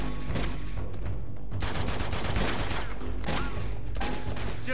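Loud, dense bursts of gunfire from the Uncharted 2: Among Thieves video game come in heavy rapid volleys, broken by brief lulls and then resuming, with no voices over them.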